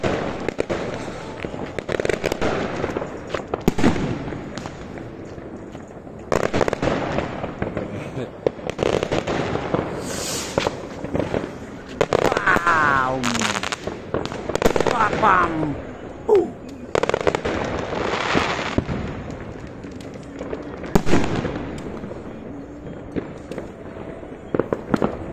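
New Year fireworks pop and crackle in repeated bursts and rapid volleys over about twenty-five seconds, some near and sharp, others softer, with people talking faintly in between.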